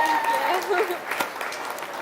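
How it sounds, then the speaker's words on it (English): Audience applause rings out at a breeding and market goat show at the North Idaho State Fair for the supreme doe winner, a steady wash of clapping with a voice speaking over the start. "Let's give that young lady a big round of applause."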